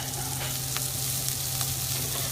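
Cabbage frying in a pan with caramelized ingredients as the start of Irish colcannon, a loud, continuous close sizzle with occasional crackles and no talking.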